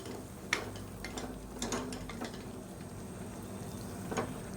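Bottle gourd pieces sautéing in a pan for a kulambu, giving a soft, steady sizzle broken by scattered ticks and scrapes of stirring, close and fairly quiet.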